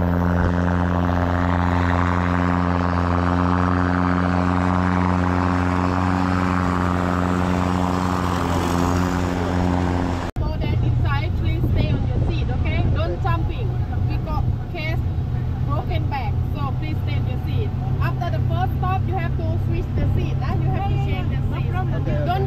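Tour boat engine at Phi Phi Island, Thailand, first idling with a steady harmonic drone, then revving hard as the boat pulls away into a loud, rough roar mixed with wind and splashing, with voices talking over it.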